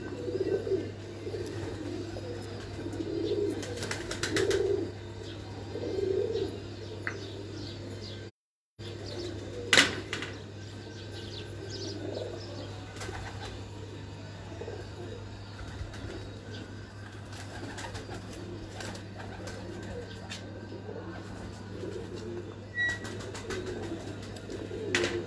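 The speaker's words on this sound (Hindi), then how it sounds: "बहुत पसंद आया हमें ये कबूतर" Pigeons coo in repeated soft bursts at moderate distance, with occasional sharp wing flaps and a brief dropout, over a steady hum and no speech.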